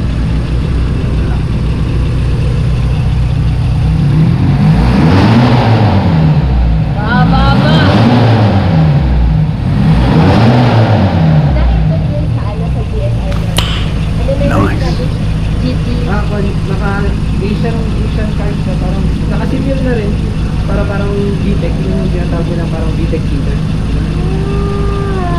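A carbureted 1987 Mitsubishi Lancer Box Type engine revs up and down in two strong sweeps near the start, then settles into a rough idle with some small clatter. People talk nearby.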